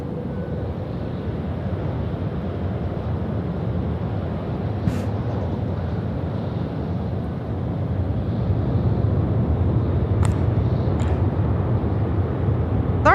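An Emirates airliner takes off from runway 16 right at Sydney Airport at night, a distant broad jet roar that holds steady and then swells louder toward the end, with a few faint clicks over it.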